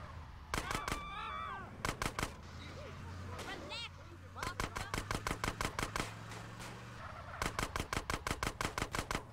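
Bursts of gunfire in the GTA San Andreas video game, loud rapid automatic volleys of sharp cracks in several clusters with brief gaps, and game voices and shouts in between.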